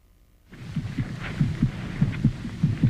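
A heartbeat throbs in slow, steady pairs of deep thumps, starting after a brief silence and repeating evenly at a moderate level with a faint hum underneath, in a documentary about the Vietnam War.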